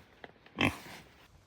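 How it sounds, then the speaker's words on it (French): Pig grunts outdoors on a farm in New Caledonia, one short close snorting grunt rising after a faint earlier snuffle, otherwise quiet. "Les petits cochons."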